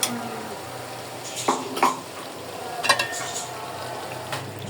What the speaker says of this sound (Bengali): ভালো করে একদম কষিয়ে নিচ্ছে সব কিছু